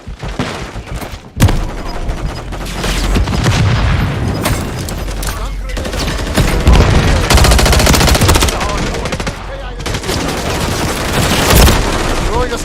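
Stun grenade bursts and gunfire in a shooter video game, loud, dense and continuous, with repeated shots and heavy thuds layered under in-game radio voices.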